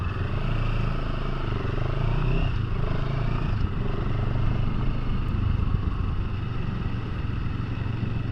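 A 2022 CFMOTO 700 CL-X motorcycle rides off in the UK, its engine a steady, close, mid-pitched rumble mixed with wind and road noise, unbroken and without speech.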